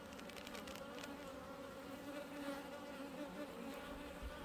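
Honey bees buzz around an opened hive box during an inspection. The buzzing is close, dense and continuous, with a steady hum and no voices.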